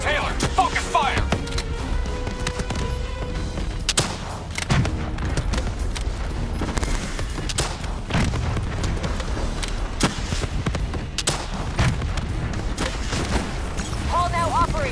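Sustained gunfire in the Call of Duty Black Ops 3 campaign during a boss fight against a shielded enemy, a dense, loud stream of shots and blasts with layered booms, with speech from game characters mixed in throughout.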